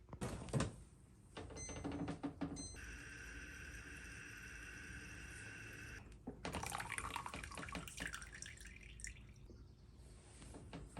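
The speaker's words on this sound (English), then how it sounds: "So let's do the final flush." A NU Aqua 4-stage countertop reverse osmosis system runs its final flush: clicks and knocks, then a sustained whirring hum with trickling water, followed by gurgling and dripping toward the end.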